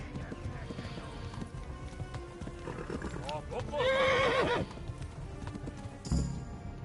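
Hooves clip-clop at a steady running pace in Kingdom Come: Deliverance II, with a horse whinnying midway, amid game ambience and some talk.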